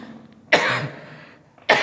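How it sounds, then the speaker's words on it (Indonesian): Two sharp, loud coughs from a man giving an Islamic religious lecture, the first a rough, drawn-out hack and the second cut short, close to the microphone with no talk over them. "Maaf, batuk."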